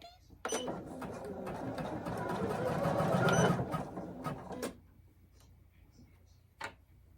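Poolin EOC06 embroidery machine quilting with a magnetic hoop and a DIY weightless quilter, a steady close rapid mechanical stitching hum for about four seconds, then stopping into quiet room tone with a brief click later.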